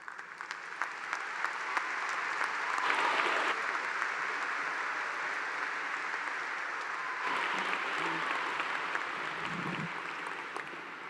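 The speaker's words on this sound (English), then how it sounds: "How about another round of applause" A commencement crowd at Clemson University applauds graduates, sustained broad clapping from a large audience filling a hall, swelling slightly in places and carrying on evenly without talk.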